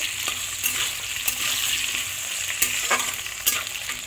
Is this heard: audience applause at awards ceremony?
no